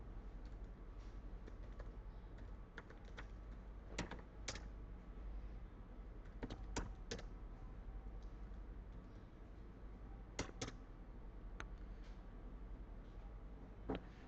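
Fingers type on a computer keyboard in quick irregular bursts of clicks, a few louder keystrokes standing out against a steady low background hum, close and alone without speech.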